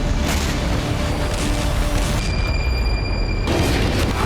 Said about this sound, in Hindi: बर्फ के बीच एक जोरदार धमाके के साथ आग का गुबार उठा